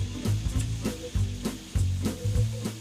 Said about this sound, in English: Rinse the salt off the aubergine and get it sizzling.